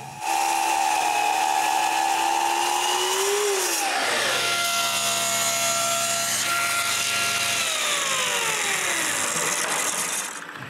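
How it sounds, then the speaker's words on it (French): A power saw cuts blocks from a piece of walnut wood, giving a loud, continuous whine whose pitch dips and shifts as the blade bites through the wood, with no voices. "je peux prendre un bout de noyer puis couper 2 blocs."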